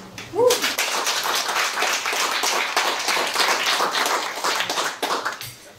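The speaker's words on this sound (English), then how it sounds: "I would like to have a warm applause for Lotte and the speakers that she will introduce now" Warm clapping from an audience at a gender-equality discussion event, steady and fairly close, with a brief voice at the start before the applause carries on alone and tapers off.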